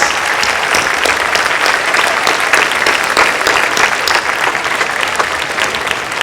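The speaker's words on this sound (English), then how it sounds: "So let's clap for the adults who are 18 above first, and then we will clap for us." A large crowd at a closing ceremony claps loudly and continuously, dense applause filling the whole stretch without pause.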